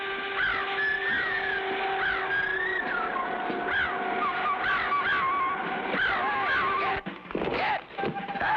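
A cartoon giant bird squawks in an attack, a run of loud, harsh, honking cries repeating rapidly close by, with a brief break near the end.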